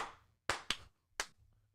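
A few sharp hand claps from people clapping along, three or four spaced single claps amid a quiet, low hum, with no talk.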